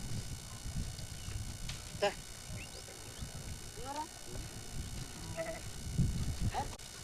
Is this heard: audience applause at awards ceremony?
no